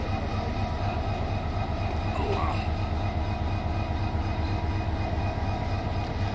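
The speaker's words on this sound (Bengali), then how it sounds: "ওদিক থেকে আরেকটা ট্রেন ঢুকছে আমরা দেখতে পাচ্ছি, ওটা লোকাল ট্রেন" A local train entering Tarakandi railway station produces a steady low rumble and rolling rail noise from some distance, continuous and even throughout.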